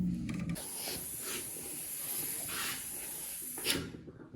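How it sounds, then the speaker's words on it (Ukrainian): A steam iron pressing freshly stitched bedding fabric, with several soft bursts of steam hiss over faint handling noise, close by and with no talking. "Прасуємо."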